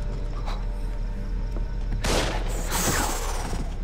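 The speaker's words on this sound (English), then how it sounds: "Well, they're shooting at me then." Enemy gunfire in the video game Far Cry 3, a dense rattling burst of shots and booms that swells midway, loud and close over a steady rumbling background.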